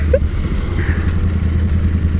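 A Royal Enfield Interceptor motorcycle engine runs with a steady low throb and mild mechanical clatter, heard close and moderately loud while the rider rev matches during a ride.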